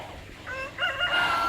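A chicken crows and clucks briefly, fairly close, over a low background rumble.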